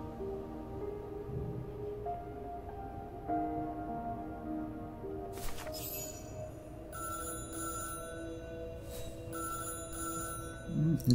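An old-fashioned telephone rings in bursts in the Syberia: The World Before game, several bright trilling rings over a low ambient hum.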